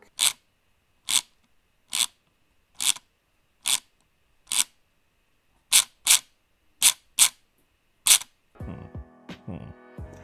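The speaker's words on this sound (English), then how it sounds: "And this is what the clicky sounds like." Sharp, evenly spaced clicks from a Logitech MX Master 3 mouse scroll wheel in its clicky ratchet mode, about a dozen in a row, loud and close, followed by a brief rattly scraping.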